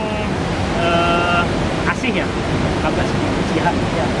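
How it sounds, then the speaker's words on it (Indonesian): Curug Seribu, a waterfall formed where three rivers meet near Gunung Salak, roars as a loud, constant broadband rush, with a person talking faintly over the water. "bukan curug mata air ya, tapi curug pertemuan dari 3 sungai ini"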